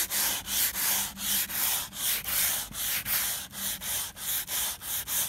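Window caulking being sanded by hand with 80 grit sandpaper, a steady run of about a dozen rasping back-and-forth strokes, close and loud, with no talking.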